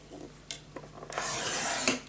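Paper being scored on a scoring board for a blue gatefold mini album: a few short, soft scratches, then one longer, steady scraping stroke close by, with no talking.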